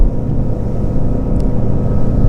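A DaVinci 30 motor boat runs under way in blustery conditions, its engine giving a steady, continuous low rumble mixed with wind and water noise throughout.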